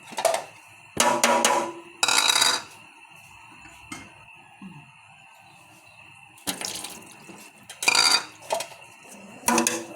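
Plates and dishes clattering at a sink with a running tap, several loud bursts of clinking separated by quiet stretches and a steady faint hum, no voices.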